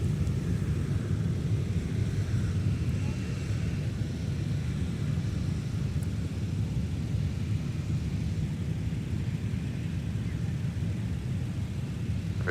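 A Southwest Boeing 737-800 taxiing at MSP airport, heard as a steady distant low rumble of jet engines mixed with broadband outdoor wind noise, continuous and unchanging throughout.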